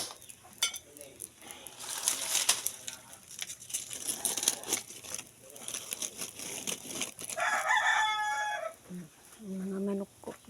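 A rooster crows in the background near the end, with a few clucks, among rustling and general outdoor noise.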